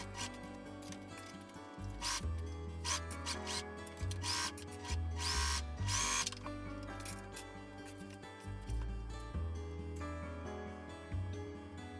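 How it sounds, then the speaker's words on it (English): A Singer heavy-duty sewing machine runs in bursts as fabric for a gathered dress is sewn, giving a close mechanical whir and rattle. Short pauses and stitch noises break up the runs. "I'm using my Singer heavy-duty sewing machine."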